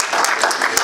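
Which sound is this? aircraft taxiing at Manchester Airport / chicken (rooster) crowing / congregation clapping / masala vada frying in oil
congregation clapping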